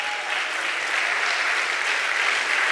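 A church congregation applauds in praise of God, a dense, steady wash of many hands clapping close and evenly for the whole stretch, with no voices rising above it.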